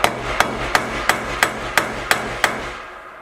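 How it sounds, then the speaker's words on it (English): A hammer strikes an eighth-inch metal stop to crimp it onto snare trap cable, eight sharp, evenly spaced metallic blows, close and loud with no talking. "take a hammer if you don't have a crimper,"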